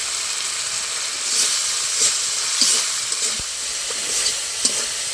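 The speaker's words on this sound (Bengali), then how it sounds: "মশলাগুলো ভালো করে কষিয়ে নেবো" Ground chilli, coriander and cumin powders frying in a pan, a steady hissing sizzle with soft periodic bursts as the spices are stirred, close and even, with no one speaking.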